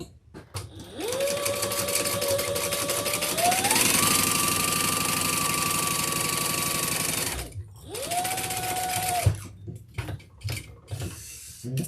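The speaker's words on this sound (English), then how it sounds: "We're just sewing the top closed." A sewing machine stitches the top of a handbag closed, running in long steady bursts with a rising whir, pausing briefly, then starting again for a shorter run, loud and close with no talk.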